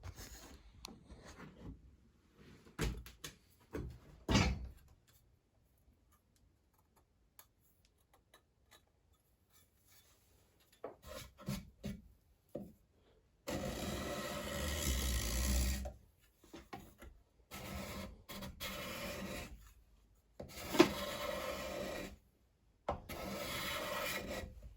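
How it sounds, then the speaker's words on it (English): A card scraper pulls shavings off seasoned maple in repeated rasping strokes, short bursts early on and then longer sustained scrapes, close and crisp, separated by pauses of near silence. "we're going to see if this will pull some shavings off a piece of wood"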